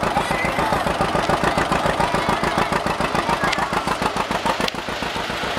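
A wood-cutting blade machine's engine runs up to speed at a show, a loud, close, rapid chugging beat that holds steady throughout, with a couple of sharp clicks near the end and no talking.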